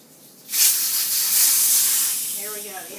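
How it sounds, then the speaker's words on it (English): Air hisses hard out of a tubeless bike tire through a valve with its core removed, starting abruptly and holding a steady, loud rush close by that fades slightly toward the end. "The air is coming out super fast."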